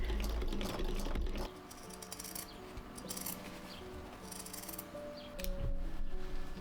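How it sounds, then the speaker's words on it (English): A sewing machine running a seam to join the outer and lining fabric of a small sewing-kit pouch, making a quiet mechanical whir in short runs with brief pauses, and no talking. "I am going to run a seam just to fasten our outer and lining fabric"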